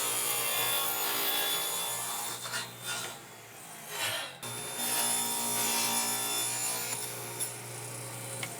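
A saw rips through plywood sheets for the back panel of a shoe rack, giving a steady, close rasping cut that dips briefly twice midway before resuming, with no talking.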